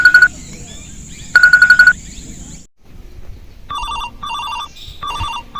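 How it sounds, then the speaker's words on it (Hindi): An electronic phone ringtone sounds in two bursts of trilling beeps, then a different chirpy melodic ring pattern repeats several times, close and fairly loud. "ये फोन आवत है।"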